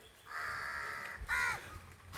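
Crows caw in two drawn-out, harsh calls close by, the second one rougher and shorter, with only faint background hiss and no voices.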